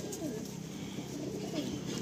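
A lively female Madrasi pigeon coos steadily, low and close, in a continuous soft murmur with no talking over it.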